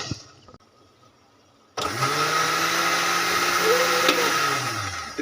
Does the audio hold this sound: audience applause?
no